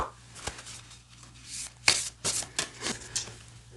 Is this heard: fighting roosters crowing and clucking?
no